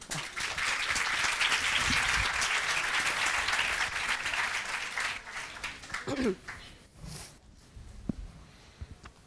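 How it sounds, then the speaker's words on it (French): A seminar audience at a francophone fundraising conference applauds loudly and steadily for about six seconds, then the clapping thins out and gives way to a few scattered sounds and brief voices. "on demande en fait à notre public de nous applaudir avant"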